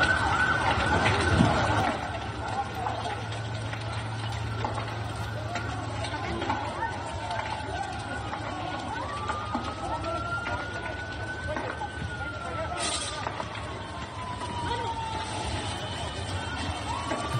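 Fire engine sirens wail as firefighters arrive at a burning historic church in Chile, a rising and falling tone heard at a middle distance over street noise and scattered voices.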